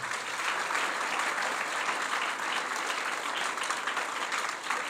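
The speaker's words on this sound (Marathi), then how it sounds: "मग आपण आपल्यासाठी एकदा जोरदार टाळ्या वाजवा." An audience of students, former students, teachers and parents at a school gathering bursts into loud, sustained applause, an even wash of many hands clapping with no talk over it.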